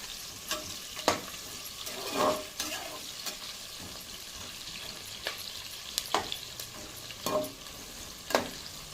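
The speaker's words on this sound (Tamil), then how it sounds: "வெங்காயம் போட்டு வதக்கிக்கிடுவோம்." Onions sautéing in a pan for soya chunks biryani, a quiet continuous sizzle broken by repeated spatula scrapes and stirring strokes every second or so.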